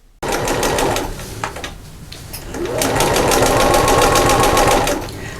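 A sewing machine stitches fabric while a bag is being made, loud and close, with a short run, a brief pause and then a longer steady burst of rapid needle strokes.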